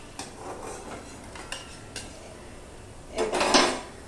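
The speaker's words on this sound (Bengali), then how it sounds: "এই দেখো কটা ভাজা হয়ে গেছে, আমি তুলে তোমাদের দেখাচ্ছি।" Helencha leaf fritters frying in deep oil, a soft sizzle under a few light metal taps of a utensil, ending in a louder burst of bubbling and clatter as the fritters are lifted out.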